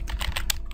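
Rapid keystrokes on a computer keyboard while a function name is typed into a JavaScript code editor, a close, steady run of clicks with no talking.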